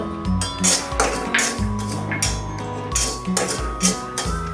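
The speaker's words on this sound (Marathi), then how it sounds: "आधी आपण खसखस भाजून घेणार" Poppy seeds dry roasting in a pan are stirred and shaken, producing repeated close metallic scrapes and light rattling clinks in an uneven rhythm, with no voices.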